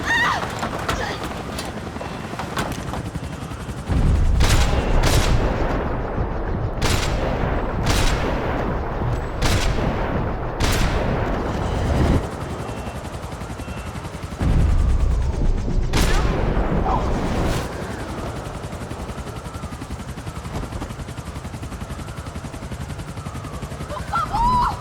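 Shootout gunfire in Max Payne 3, with a string of sharp shots and rapid bursts arriving in clusters over steady game background noise, loud and close.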